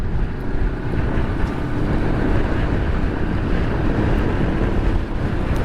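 Strong wind near a bridge in Rizal, Nueva Ecija roars and buffets steadily against the microphone, a constant loud rushing with no pauses.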